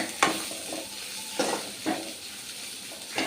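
An egg sizzles in a pan for fried rice, with a few sharp scraping stirs of a spatula breaking through a soft steady frying hiss.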